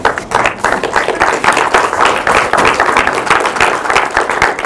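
Loud, close audience clapping at a poetry festival session, a dense flurry of many hands with sharp individual claps standing out, sustained for several seconds.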